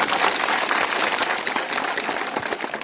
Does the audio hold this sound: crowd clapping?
yes